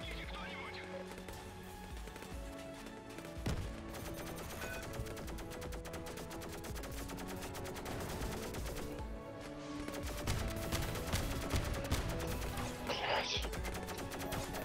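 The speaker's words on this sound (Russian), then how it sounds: "три выстрела, и у меня хп" Video game gunfire cracks out in irregular bursts amid a busy mix of game music and other effects, including horse neighs and hoofbeats.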